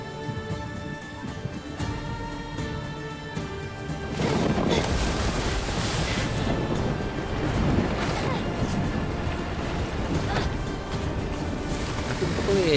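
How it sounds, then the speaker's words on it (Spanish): A stormy sea and wind in Assassin's Creed Odyssey make a continuous loud roar of waves and gusts, growing heavier after the first few seconds. "Hace un poco de tormenta."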